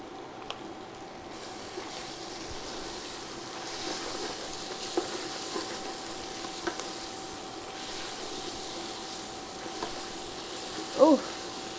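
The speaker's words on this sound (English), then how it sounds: "That's why I'm feverishly turning everything, mixing it up." Yassa chicken sizzling in a pan while being stirred and turned, giving a steady frying hiss with occasional soft scrapes and clicks throughout.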